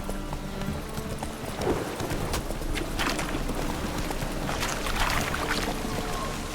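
Hooves clip-clop in a quick galloping rhythm as a horse runs in The Witcher 3, a continuous close pattern of thuds under faint ambient game sound.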